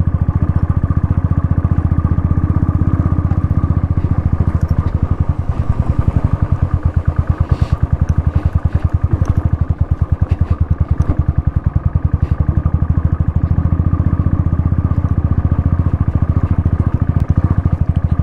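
A motorcycle strains up a muddy, slick mountain road on the Sach Pass, its engine droning loud and steady at low revs with a rapid chugging pulse and occasional clatter, close and continuous.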